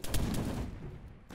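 Grenades going off in ArmA, a military video game, with a dense rumble of blasts and gunfire up front that thins out and fades, then a faint new burst at the very end.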